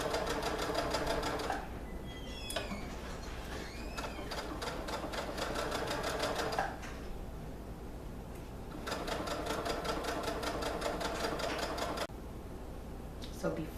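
A sewing machine stitches leggings along a chalk line in rapid, rattling bursts of a few seconds each, separated by quieter pauses, and a voice talks during the breaks.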